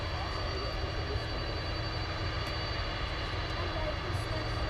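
Airliner jet engines rumble at DFW airport at night, a steady distant roar with a faint high whine, heard from a spotting location with an A350-1000 nearby.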